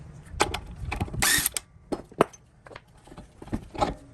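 A hand ratchet loosens a gold nut on a Land Cruiser 100 Series or LX470 rear axle, giving short uneven bursts of clicking with pauses and metallic knocks, close and alone.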